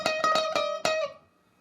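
Guitar plays a short blues lick, about five quick plucked notes in a row, the last one ringing briefly before cutting off, alone with no talking.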